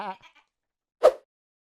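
A person's voice briefly imitates bleating, then after a pause a single short goat bleat rings out, close and fairly loud.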